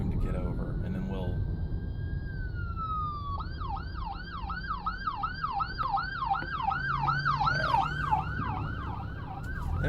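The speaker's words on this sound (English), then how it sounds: "I'm going to move over so I can give this ambulance enough room to get over" An ambulance siren wails in a rising, falling cycle, then switches to a fast repeating yelp that grows louder as the vehicle approaches in traffic, over a steady low road rumble.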